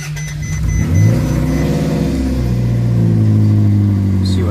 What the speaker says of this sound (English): here's a cold start video